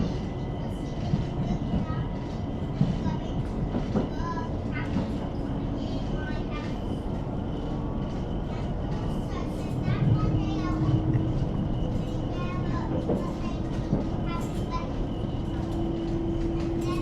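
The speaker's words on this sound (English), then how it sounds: "There goes another Thameslink service going to the south coast and Gatwick Airport." A Thameslink train heard from inside a London Overground carriage on the Windrush line, with a steady loud rumble and rail noise throughout, faint clicks and squeals, and voices talking over it.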